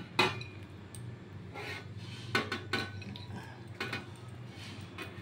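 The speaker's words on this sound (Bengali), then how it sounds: "এইটা আমি মেখে এই ছাকা তেলে এবার ভেজে নেব" Mango fritter batter made with Amrapali mango being mixed by hand, soft wet squelching and rubbing with a few sharper clicks against the bowl, quiet and close, no speech.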